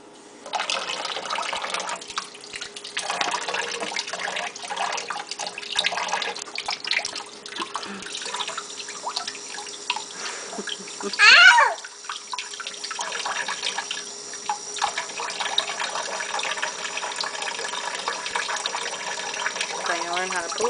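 A sink faucet runs with a steady, close splashing and trickling of water that keeps going throughout, with one brief louder gush partway through and a voice speaking now and then over it.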